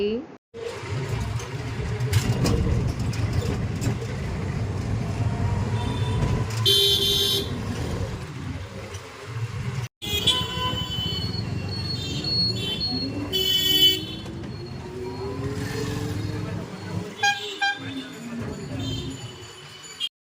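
Traffic noise around a toto e-rickshaw crossing to the far side of the Ganges on an afternoon ride, with a steady road rumble, a few sharp car horn toots midway and later, and people talking over it.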